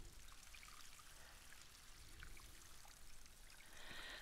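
Water poured from a watering can over plants in the video game Alchemy Garden, a steady continuous trickle and splash running throughout at a moderate level with no talking.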